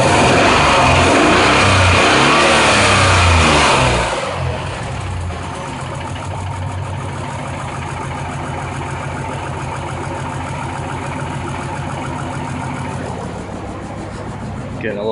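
A car engine revs loudly under throttle for about four seconds, then drops back to a steady idle that runs rich and smoky, continuing evenly to the end with no voices.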